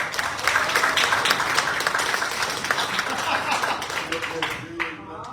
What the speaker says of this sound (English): o give Ms. Page and that great Civic Academy reception a round of applause.